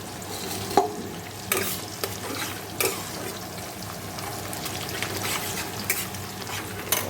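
Meat cooking in a pan with new potatoes for a home meal: a steady sizzle and frying hiss with scattered clinks and scrapes of a spoon stirring, no voices.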